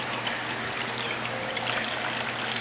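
A hand being rinsed under a running kitchen tap while a whole chicken is prepared: a steady, close rush of flowing water with no talk and no breaks.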